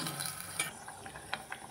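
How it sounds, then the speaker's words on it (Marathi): Masala roasting in hot oil in a pan for a Maharashtrian meal, a faint soft sizzle with a few light scrapes and taps of stirring close by, and no talking. "मसाल्याला आपण 5 ते 10 मिनटं भाजून घेऊ"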